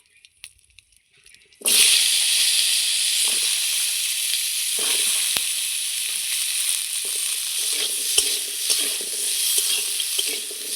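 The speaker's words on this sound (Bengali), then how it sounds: "এবার আমি ওই তেলে ভেজে নিব গাজর।" Carrots dropped into hot oil after frying bitter gourd for lau sukto set off a loud, steady sizzle that bursts in suddenly and hisses on without a break, with faint clinks of a utensil now and then.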